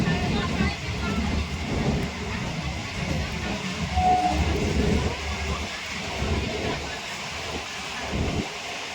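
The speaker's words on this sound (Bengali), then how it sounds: "আর এই যে ট্রেনও ঢুকে গেছে" A distant train rolls into a station on a rainy day, its broad rumble and wheel noise steady throughout, with a faint brief tone partway through and a voice talking over it.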